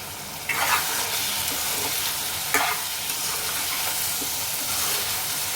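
A bottle gourd curry cooks on a low flame in a pan, giving a constant near sizzle and hiss with a few soft clinks and stirring bumps. No one talks.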